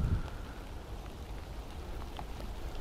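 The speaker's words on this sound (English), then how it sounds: "as soon as I want to make a vlog, it starts raining" Rain falling outdoors among dense, jungle-like trees, a steady close hiss of drops spread evenly through the whole stretch with no voices.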